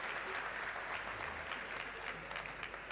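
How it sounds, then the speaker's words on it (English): Conference audience applauding panelists at an energy conference in Namibia, continuous even clapping from a room full of people at moderate distance, with a low rumble underneath. "let's give them another round of applause"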